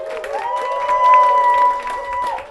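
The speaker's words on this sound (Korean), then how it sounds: "여러분의 힘찬 박수와 함성으로 시작하도록 하겠습니다" A short stretch of applause and cheering from a crowd at a citizens' media group's new-member welcome event, loud and close, with sustained tonal whooping layered over the clapping.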